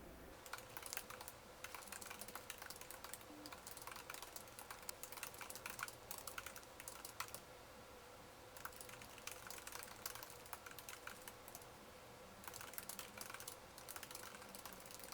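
Steady, quiet typing on a computer keyboard fills the whole stretch, a dense patter of soft clicks with a few brief pauses, heard alone with no talk while a short story is being written.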